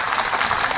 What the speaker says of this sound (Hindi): हम चाहते हैं आप जोरदार तालियों के साथ स्वागत अभिनंदन